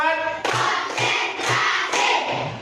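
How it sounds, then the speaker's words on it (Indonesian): A group of children clapping hands in rhythm during a classroom ice-breaking game, with sharp, evenly spaced claps in short bursts close by, mixed with a faint voice. "Tepuk 1, tepuk 2, tepuk 3"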